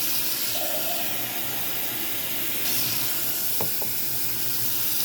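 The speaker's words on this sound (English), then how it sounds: "This is unfiltered cold water." Unfiltered cold water running from a kitchen faucet fitted with a pūr filter mount, a steady close hiss and splash into the sink throughout, with a faint clink or two near the end.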